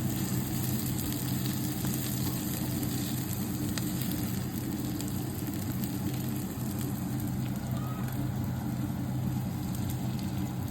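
Chopped onions sauté in olive oil in a pan, a steady, even sizzle and crackle of frying that holds constant and fairly quiet throughout, with no talking.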